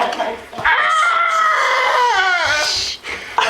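A shrill, wavering scream from a video game character rises and bends in pitch for about two seconds, loud and close, with brief sounds before and after.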